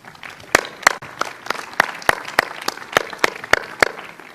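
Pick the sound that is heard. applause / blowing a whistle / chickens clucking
applause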